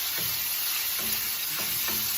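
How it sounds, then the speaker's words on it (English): Beef pieces browning in a pan for Chinese stir-fried steak give a steady, close sizzle, with a few soft scrapes of the spatula turning the meat. "So all you try to do is just to brown the beef so you don't destroy the beef."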